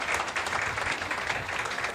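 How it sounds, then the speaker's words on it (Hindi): Steady, dense applause from an audience at a graduation ceremony of a Bible college in Islamabad, continuous and fairly loud for the full two seconds without any talk. "सबकी भरपूर तालियों"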